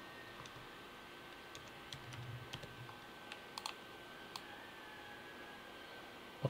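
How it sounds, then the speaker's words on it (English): Soft, sparse keystrokes on a computer keyboard while entering text into a design layout, irregular taps and clicks spaced out over a quiet background hiss. "So just insert the text and then just type"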